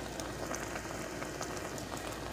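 Garlic cloves sizzling in a pan alongside beef, a steady soft crackle and hiss of frying that continues evenly without pause.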